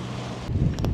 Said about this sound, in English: And the wind is going up and up, not down.